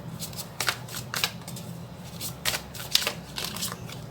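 Tarot cards being shuffled up close, a quick papery riffling in several short bursts with brief gaps, over a faint low background hum.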